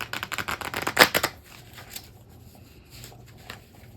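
A homemade card deck being shuffled, a quick burst of crisp riffling flutters up close that peaks sharply, then dies away to a few faint soft taps.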